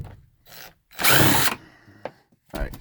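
Power drill backing out T20 Torx screws from a Dodge Ram overhead console, several short bursts of motor whine with one longer loud run, separated by pauses and small clicks.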